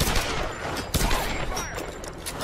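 Gunfire in the Tomb Raider video game: dense overlapping shots with one sharp loud report near the middle, crackling throughout as a sustained burst of in-game weapon fire.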